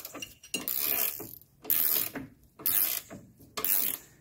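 A hand ratchet works a steering stabilizer bolt loose on a 1985 Mercedes 300CD, giving four close bursts of rapid clicking separated by short pauses as the handle swings back and forth.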